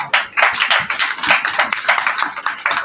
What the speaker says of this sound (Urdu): ان کے لیے تالیاں بجائیں